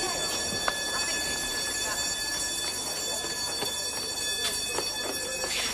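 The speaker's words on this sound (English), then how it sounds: "Do you know that ringing? All that. Fire alarm, though." A continuous electronic ringing, like a fire alarm, sounds steadily throughout over a busy background rumble, with occasional faint voices.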